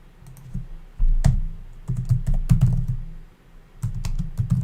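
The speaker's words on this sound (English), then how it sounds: "even when I'm typing" Typing on a gaming computer keyboard, with clusters of clicky key presses in several bursts over a low hum, fairly close and fairly loud.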